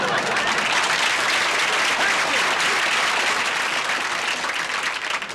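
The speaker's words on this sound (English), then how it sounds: "Save the applause for there." Studio audience at a 1975 television variety show breaks into sustained, dense applause, a loud continuous wash of many clapping hands filling the room throughout.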